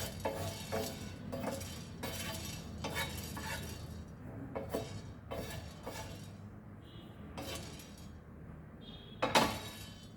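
Spices dry roasting for Goan garam masala are stirred in a small pan, giving repeated scraping and clinking strokes in bursts, with a louder knock near the end.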